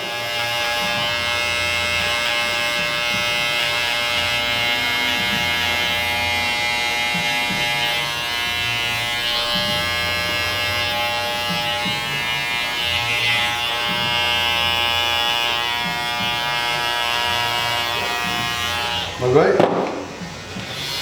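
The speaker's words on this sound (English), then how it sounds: "Now I'm going to move on to the T-L liner to work out the bottom line." A steady, close electric liner trimmer buzzes for about twenty seconds while cutting the bottom line of a skin fade haircut, with a harmonic whine, ending in a brief louder rustle; a voice murmurs faintly underneath.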